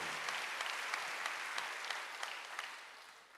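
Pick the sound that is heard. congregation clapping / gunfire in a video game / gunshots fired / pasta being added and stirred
congregation clapping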